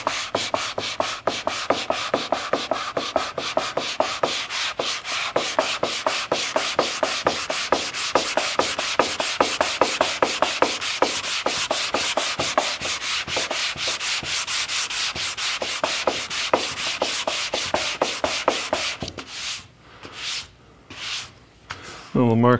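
Continuous rhythmic sandpaper strokes rasp across the inside of a carved wooden archtop guitar plate, steady and close for most of the stretch, then a few slower separate rubs near the end.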